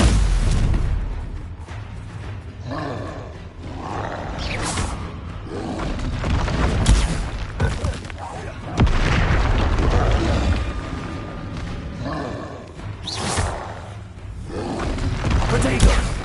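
Stupefy spell blasts in the game Hogwarts Legacy, with repeated heavy booms and bursts spaced through a loud battle, mixed with shouting voices and combat effects.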